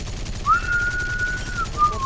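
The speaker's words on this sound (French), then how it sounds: "Siffler dans le micro, c'est pas nécessaire par contre." A single sustained whistled note, loud and close, holding steady pitch before a short second tone at the end.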